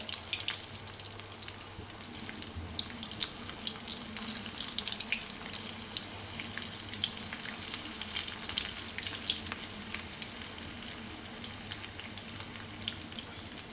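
Papdi muthiya dumplings fry in hot oil over a medium flame, a quiet, even bubbling crackle that carries on steadily without pause.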